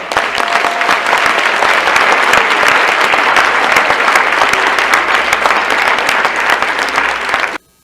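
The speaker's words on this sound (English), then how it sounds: "So a round of applause for Graham Hancock." Loud, full audience applause greeting a speaker at a lecture on human history, a dense continuous wash of clapping from a large crowd that cuts off abruptly at the end.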